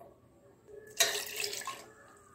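Milk for a Kit Kat milkshake pours into a glass in one short liquid splash lasting about a second, close and fairly faint, after a quiet pause.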